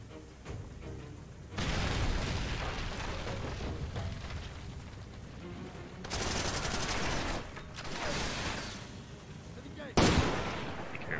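Enemy gunfire in the video game Far Cry 2, with loud bursts of shots and fusillades coming in waves, a sharp crack near the end, and voices talking over parts of it.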